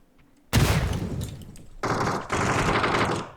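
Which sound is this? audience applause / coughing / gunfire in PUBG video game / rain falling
gunfire in PUBG video game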